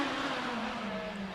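An Empire Wraith hill climb car with a 1-litre motorbike engine at a speed hill climb, its high-pitched engine note droning steadily and slowly dropping in pitch as it passes at moderate distance.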